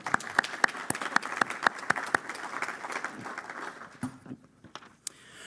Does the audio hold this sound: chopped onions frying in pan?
no